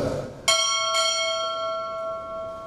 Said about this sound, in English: I'm ordering strike 2 bells.